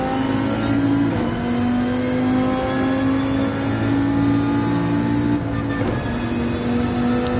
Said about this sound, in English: Just over-revved it, was barely flashing up in the blue.